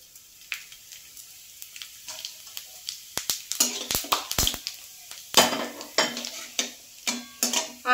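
Bay leaves, dried chillies, cardamom and cumin sizzle in hot oil, broken by a run of sharp clinks and scrapes of a spoon against the pan, close by and fairly loud.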